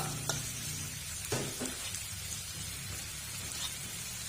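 Fish frying in a pan of chu chee curry, a steady close sizzle and bubbling throughout with a few soft clinks and no talking.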